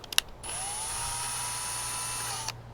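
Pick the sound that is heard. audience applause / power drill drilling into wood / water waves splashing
power drill drilling into wood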